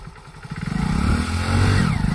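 A motorcycle engine runs close by as a beginner starts riding, with a rapid putter that swells into a louder, steady revving drone, and no voices.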